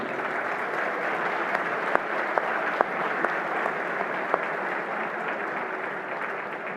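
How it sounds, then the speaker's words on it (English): Applause from the audience at a gala dinner for the 30th annual Government Roundtable, honouring Nectaria and her team: steady, sustained clapping from a sizeable crowd in a large room, with a few sharper individual claps standing out. "I would like to just have a round of applause, please, to Nectaria and all her team"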